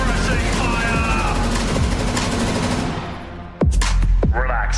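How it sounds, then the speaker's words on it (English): Sustained suppressing machine-gun fire in a military video game, a loud dense rattle of rapid shots that thins out, followed by a few sharp sporadic bangs, with voices over the top. "Suppressing fire!"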